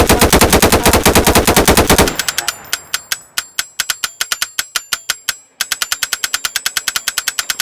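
Rapid automatic gunfire from a video game, a dense continuous burst at first, then spaced single shots in a steady rhythm with a brief pause before another quick run of shots, loud and close.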